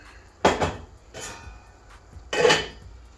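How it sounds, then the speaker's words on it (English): Metal cooking pot picked up and set down in a home kitchen, three sharp clanks and knocks spaced apart with quiet handling between them, close and fairly loud with no talking. "Grab my pot."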